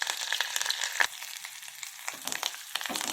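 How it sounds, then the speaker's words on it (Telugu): Tempering of garlic, dried red chillies, curry leaves, cumin and mustard seeds crackles in ghee and oil for sorrel leaf dal, a close, fairly quiet sizzle with irregular pops and bursts. "ఈ పోపు వేగేటప్పుడే కొంచెం కారం వేసుకున్నాము"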